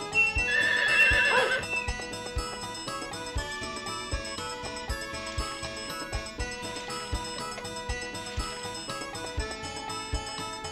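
A horse whinnies in Harvest Moon 64, with a loud, wavering neigh at the start. Game music plays throughout and a softer call follows later.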